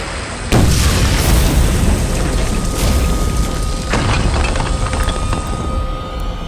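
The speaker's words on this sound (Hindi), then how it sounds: "तो मेरा धमाका देख।" A sudden loud explosion blast in a Hindi fantasy TV show, a single booming burst that starts abruptly and then rumbles on as a sustained roar for several seconds, with no speech over it.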